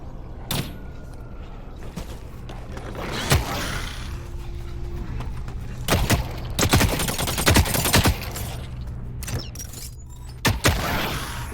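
Flechette gun in the shooter game The Cycle: Frontier firing in scattered short bursts amid other gunfire, with sharp cracks spread across a steady, noisy background.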